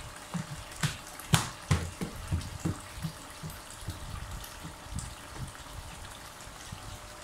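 Water pours faintly into a brine shrimp hatching container, with several distinct splashes and drips early on, then a quieter, steady trickle.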